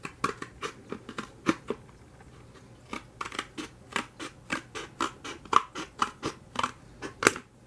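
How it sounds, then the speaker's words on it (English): Scissors snip through a plastic rim on a traditional Breyer model horse trailer, a fast series of crisp, close cuts in an irregular rhythm with no speech. "I'm going to cut the rim off of the other one."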